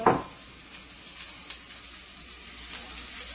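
Onions sizzle steadily in a pan on a stovetop, a bright close crackle that opens with a louder burst and then settles into an even hiss with occasional pops.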